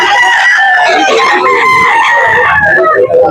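A rooster at a backyard auction market in Talisay crows loudly and close, one drawn-out call with clucking fowl around it.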